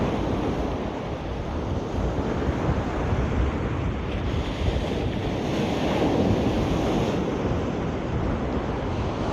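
Steady wind and breaking surf on the beach at Caister-on-Sea in Norfolk under a blustery southwesterly blowing up the shore, a continuous loud roar with gusty wind buffeting the microphone throughout and no voices.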